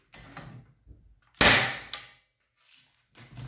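A powder-actuated tool fitted with a silencer fires a single sharp, muffled crack near the middle, followed by brief mechanical clicks and handling noises close by.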